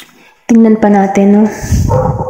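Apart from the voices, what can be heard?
dog barking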